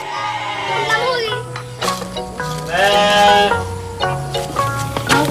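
Goats on a farm in Central Java bleat loudly and close by, several wavering cries following and overlapping one another in quick succession.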